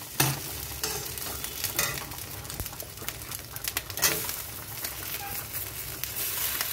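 Malabar spinach greens go into a pan of frying fish roe, a close, crackling sizzle with stirring, while pigeons coo faintly in the background.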